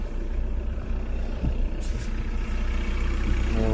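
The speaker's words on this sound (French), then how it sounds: "Je vais vous faire écouter le moteur" A Seat Leon Top Sport with a 1.9 TDI diesel engine and about 325,000 km idles loudly and steadily, a dense rumbling clatter heard up close without a break.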